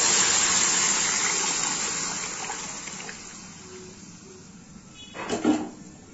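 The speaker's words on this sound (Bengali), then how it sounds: "দিয়ে দিচ্ছি এর মধ্যে আন্দাজ মতো জল।" Water poured into chickpea dal in a pot, a loud rushing gush at first that tapers off over several seconds, followed by a brief splashy clatter near the end, with no talking.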